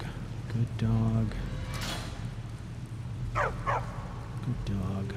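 Dog barks in The Black Prince video game, a few short barks at the start and again near the end, layered with game ambience and a narrator talking over them.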